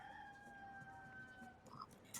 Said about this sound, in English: The rooster's back.